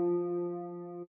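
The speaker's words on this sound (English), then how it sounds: "I got this preset called Ambient Piano." A single sustained chord from an Omnisphere Ambient Piano synthesizer preset rings evenly for about a second and then cuts off sharply, soft and alone.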